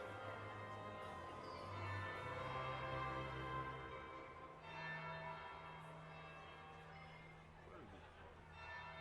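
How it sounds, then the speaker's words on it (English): A church-style bell tolls in a Dragon Age: Inquisition ballroom scene, its long ringing hum sustained and slowly decaying across the whole stretch, with faint voices and ambience underneath. "That would be the second bell."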